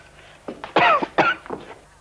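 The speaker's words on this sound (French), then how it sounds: "Et pourquoi tu tousses?" A person coughs several times in a short, close burst, with harsh rasping coughs clustered together against a quiet background.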